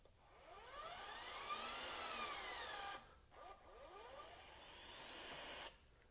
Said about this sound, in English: I'm going to hold the trigger down, and not only is it going to finish tightening